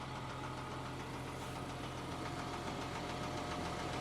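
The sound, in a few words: military truck engine running after being pull started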